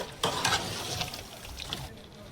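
Beef frying in a pot for biryani being stirred, with a spatula scraping and sizzling in short bursts close by.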